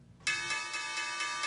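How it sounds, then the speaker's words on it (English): A New York Stock Exchange opening bell rings out loud and sustained with a bright metallic tone, its clanging pulses repeating steadily after a short quiet lead-in. "When the New York Stock Exchange bell rang on Monday"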